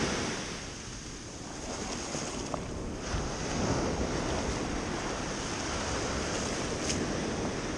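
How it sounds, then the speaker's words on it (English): Ocean waves crash and surge continuously, a broad roaring wash of surf with wind buffeting the microphone, no voices. "Waves are crashing."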